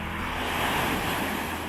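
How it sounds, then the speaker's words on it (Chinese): Evening sea waves wash onto a soft sandy beach, a steady close wash of surf blended with wind rumble, continuous and moderately loud with no voices. "水轻轻地抚摸着细软的沙滩，发出温柔的刷刷声"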